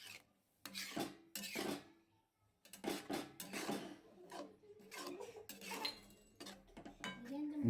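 Grated carrot, ghee and milk being stirred in a pan for desi carrot halwa, rough scraping and rasping strokes in uneven bursts with short pauses between, close and fairly quiet, with faint clinks of the utensil.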